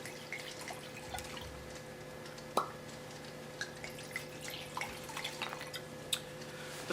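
Wine, a 2004 Meursault, poured from a bottle into a glass, with scattered drips and small splashes, one louder drop, quiet and close.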